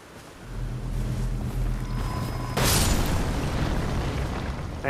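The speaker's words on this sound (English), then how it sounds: "And there's exploding rocks." Exploding rocks in the video game Elden Ring: a low rumbling drone builds, then a loud burst of broadband noise erupts near the midpoint and keeps roaring like a sustained blast through to the end.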